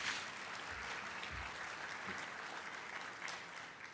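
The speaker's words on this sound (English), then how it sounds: "can we give a round of applause for the 2 of them?" Audience applause for conference organizers, a full, even roar of clapping from a large room lasting the whole four seconds, heard at a moderate distance.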